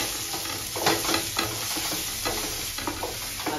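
Turmeric, cumin and coriander powder fry in a pan for an Assamese fish curry, sizzling steadily while a utensil scrapes and stirs in irregular strokes, close and fairly loud, with no talk.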